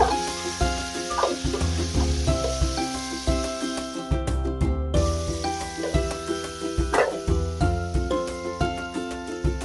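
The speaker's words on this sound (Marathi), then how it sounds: "कांदा आपला शिजलेला आहे आता मी दोन टॅमॅटो टाकून घेते" Chopped tomatoes frying with softened cooked onions in a pan for a chicken gravy, a steady close sizzle with stirring scrapes throughout and a brief drop in the middle, with no talking.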